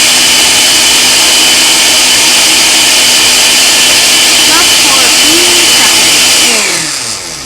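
A blender pulses cream cheese pancake batter with a loud, steady motor roar that winds down near the end.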